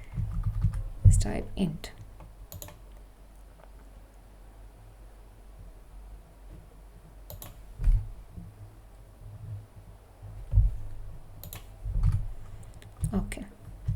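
Keyboard typing while writing data-analysis code, soft scattered clicks in short bursts with pauses, close and fairly quiet over a low background hum, with a brief spoken word.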